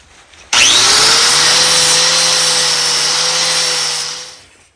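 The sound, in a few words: grinding a Briggs & Stratton crankshaft flatter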